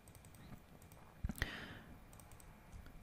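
A computer mouse double-clicked while modeling a SubD antler ring in Rhino 7 jewelry CAD software: two quick close clicks, the second sharper, heard alone against quiet room hiss.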